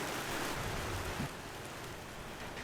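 Steady rain falls outdoors during a weightlifting competition in Tokyo, a dense even hiss of drops on surfaces with no break in it.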